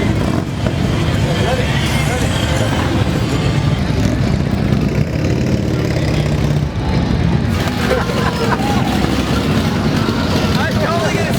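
A dense, continuous roar of many motorcycle engines at a huge rally rumbles on without a break, loud and close, with crowd noise mixed in.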